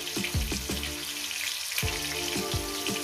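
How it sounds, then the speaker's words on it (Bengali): Potatoes seasoned with salt and turmeric frying in a pan over medium heat, a close, continuous crackling sizzle with bursts of spattering and some tonal background hum, no voices. "এটাকে আমি মিনিমাম 4-5 মিনিট ধরে আলুটাকে আমি ভাজবো মিডিয়াম গ্যাসে"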